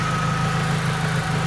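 A BMW Z3 1.9 engine with a mechanical fan driven directly off the engine idles nearby, a steady, even hum with a constant low drone and a faint whine, unchanging and uninterrupted.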